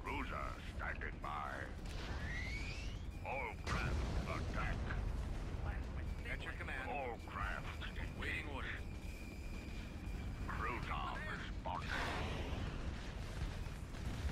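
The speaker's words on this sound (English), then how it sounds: "Here's the Marathon class getting bombarded by uh, ships here." Ships bombarding a Marathon-class ship in the space strategy game Empire at War with a Halo mod, producing dense, continuous rumbling blasts and laser-like weapon fire, with someone talking over the barrage.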